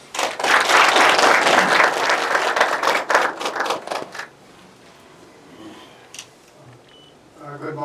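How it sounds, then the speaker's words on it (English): Applause greets the SAFA National president called to the podium at a Standard Bank U19 Cup function: a dense burst of clapping for about four seconds that then fades out, leaving quiet room noise and faint murmurs. "Let's give him a round of"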